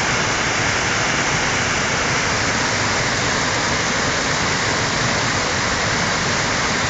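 Yerköprü waterfall near Hadim, Konya, pours in a dense, unbroken roar of rushing water, loud and constant throughout with no voices.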